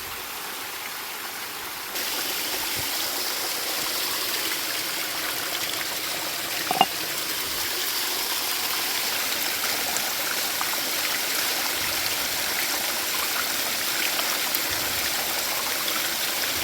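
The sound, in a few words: small waterfall flowing into a natural pool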